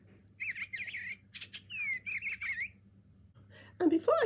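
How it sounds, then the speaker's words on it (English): An animatronic bluebird toy chirps close by in quick bursts of high tweets and squawky trills, pausing briefly before a last squeaky call. "And the latest edition is Walker Squawker, this little bluebird."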